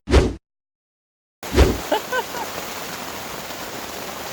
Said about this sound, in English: Oh, we can hear that rain though. Heavy.